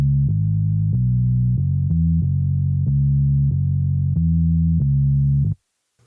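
Top bass line of a reggaeton track built in Logic Pro X: a loud, melodic synth bass playing a steady repeating pattern of short notes for about five seconds on its own, then cutting off abruptly.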